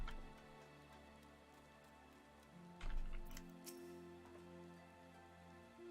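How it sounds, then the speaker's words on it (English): Rain in the Final Fantasy XIV game world, a soft steady patter of drops under quiet tonal background music, with a brief louder rustle midway and no talk. "Why is it suddenly raining?"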